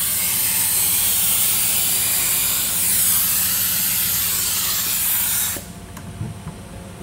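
An activator spray gun gives off a loud, steady, close hiss as it sprays over hydrographic film, then cuts off abruptly near the end, leaving a faint background and a few small knocks.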